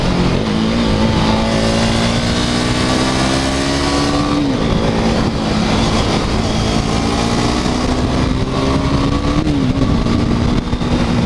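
A KTM RC 390 motorcycle engine drones loud and close through a series of bends, pitch climbing steadily then dipping briefly at each shift or turn before rising again, continuous with no talk.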